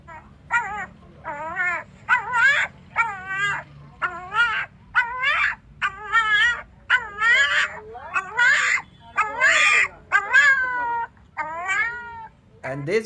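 A puppy makes a long series of whining, yowling cries, each a rising and falling tonal call, repeated in a steady rhythm close to the microphone with brief gaps between them.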